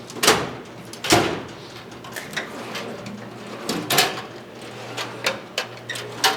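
Drawers on a Harbor Freight Series 3 toolbox sliding open and shut, a series of sharp rolling clacks and thumps close by, with lighter clicks between them and no talking.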